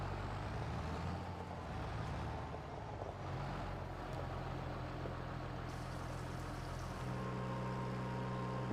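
A big tractor in Farming Simulator 25 drones with a low, steady engine hum, its pitch shifting slightly as it drives, heard alone at a quiet, even level.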